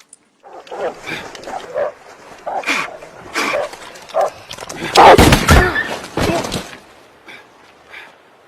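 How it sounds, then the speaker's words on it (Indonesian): A hunting dog barks and yelps repeatedly in a chase scene from the film No Country for Old Men, loud and close, with whimpers and thuds between the barks. "Di situ anjing pemburu tetap mengejarnya."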